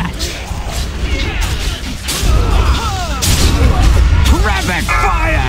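Rapid gunfire and explosions in the shooter game Black Rock, loud and dense, with bursts of shots and booming impacts layered over each other. Voices shout in between.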